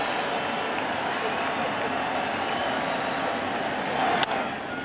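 A dense roar from a baseball stadium crowd at the 2009 World Series, Yankees versus Phillies, holding steady and loud throughout, swelling slightly near the end, with a voice talking over it.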